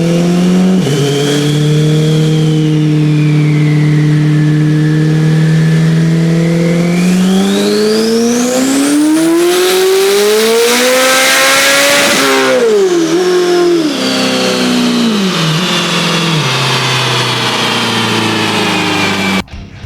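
A tuned, turbocharged Chevrolet Corvette C8 Z06 running on a chassis dyno on 93-octane fuel; the engine is loud and close, climbing steadily through a long pull to a high-pitched peak, then dropping back in wavering revs, with no voices.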